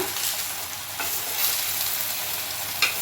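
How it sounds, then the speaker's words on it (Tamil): Egg kalaki cooks in a frying pan, a loud, even sizzle close up, with a brief scrape or two as it is stirred and flipped near the end. "இந்த பக்கம் அந்த பக்கம் திருப்பி இப்போ கலக்கி ரெடி ஆயிடுச்சு முட்டை கலக்கி ரெடி ஆயிடுச்சு"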